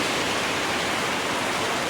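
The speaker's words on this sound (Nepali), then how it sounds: "पानी भन्ने कुरो लास्टै परिरहेछ ओभर हेभी रेनिङ भइरहेछ यहाँ त" Heavy rain during a motorbike trip, a steady dense hiss of downpour filling the clip evenly, loud and close with no talk.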